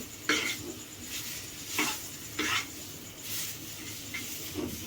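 Lentil dough (dhoka) stirred in a tawa pan, with irregular scraping and clinking strokes of the spoon against the metal over a steady sizzling hiss from the cooking.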